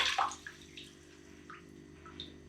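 Water dripping from a wrung-out car drying towel, a few sparse, faint drops falling one at a time with quiet gaps in between.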